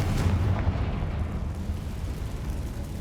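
A Confringo spell blast in Hogwarts Legacy, a loud, dense rumbling explosion with heavy low-end boom that fills the whole stretch and slowly thins out, no voices.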